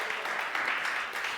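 A congregation applauding for the Lord during a Spanish-language church sermon, a short, steady, even wash of many hands clapping with no voices over it.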